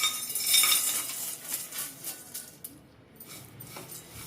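Seeds and lentils for a laddu tossed around a dry pan on the stove, with a steady faint scraping and light clinking of a spoon against metal, no voices.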